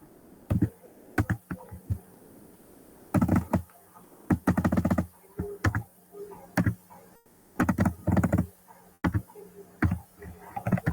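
Typing code on a computer keyboard for a Java Spring Boot REST API, irregular bursts of close, crisp key clicks with short pauses between runs.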